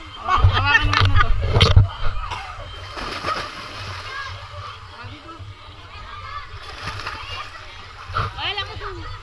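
People jump into water with loud splashes, one big splash near the start and another toward the end, while children and adults talk and shout excitedly throughout.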